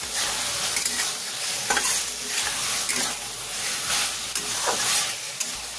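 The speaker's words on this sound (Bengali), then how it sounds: "যত ফুটছে তত কিন্তু মাছ থেকে জল বেরিয়ে আসছে" Lote fish bubbles and sizzles steadily in a pan as it releases water, with occasional scraping stirs and soft wet pops, close up and with no voices.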